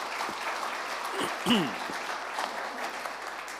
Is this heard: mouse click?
no